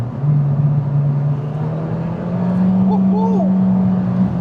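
The engine of a Citroen C2 VTS hot hatch, said to have a slipping clutch, hums steadily up close and its pitch rises as it pulls away, with a voice speaking over it.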